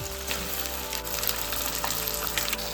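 Chicken drops into hot oil in a frying pan for Andhra-style chilli chicken with mint, giving a loud, steady, close sizzle that fills the whole moment without talk.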